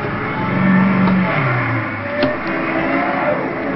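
A manual car is reversing as the clutch comes up and gas is applied, and its engine rises in a near, moderately loud rev before settling into a steady idle hum.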